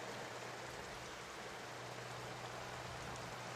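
Rain falls as a steady, even hiss of broadband noise with a low hum beneath, constant throughout without pauses or voices.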